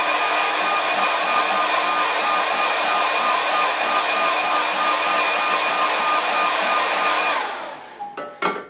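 A hair dryer blows steadily on a wet watercolour landscape painting, a loud continuous whoosh close to the mic that cuts off near the end, followed by a few soft knocks.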